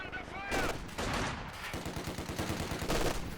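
Machine gun fire from an aggressively positioned emplacement in the real-time strategy game Company of Heroes 2, loud rapid bursts and gunshots that recur throughout amid battle noise.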